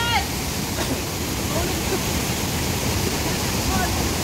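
Waterfall at Australia Falls, a dense, steady rushing roar filling the whole clip, with faint voices over it.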